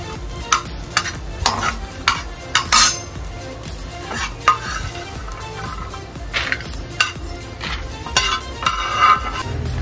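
Fresh grated coconut is roasted in a pan while a spatula stirs it, scraping and clinking against the metal in repeated close, uneven strokes.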